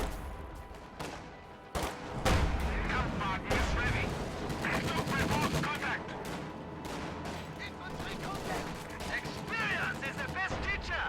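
Assault guns firing in a real-time strategy battle game, sharp close gunshot blasts and rattling bursts stacked over a busy battle din, with a voice talking over the fire.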